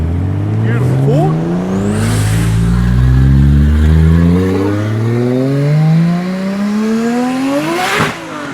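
A Ford street car, a GT, pulling away from a car show in Tempe, Sydney, its engine revving hard through rising and falling sweeps. It is loud and close, with people talking around it.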